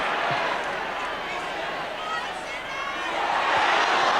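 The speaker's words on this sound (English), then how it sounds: "Listen to the crowd." A football crowd at a Norwich City versus Inter Milan match, a steady roaring swell of many voices that dips briefly and rises again, with a commentator talking over it.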